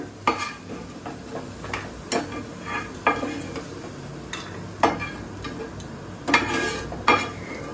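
Onion, ginger, garlic and cashews frying in a pan, with steady sizzling and repeated scraping stirs of a spatula against the pan, close and fairly loud, with no talking.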